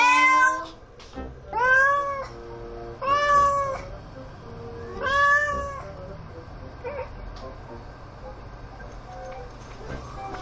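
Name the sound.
cat meowing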